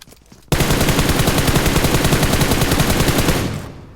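Sustained automatic fire in a mobile shooter game played on an iPad Mini 5, one long rapid burst of evenly spaced shots that starts abruptly, stays loud and close for about three seconds, then fades.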